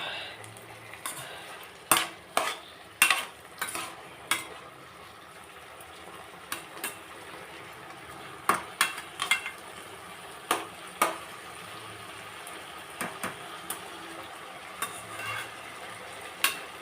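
Onions, tomatoes and brinjal frying in a pan for a brinjal-tomato curry, with a steady low sizzle under frequent sharp scrapes and clinks of a spoon stirring against the pan, no talking.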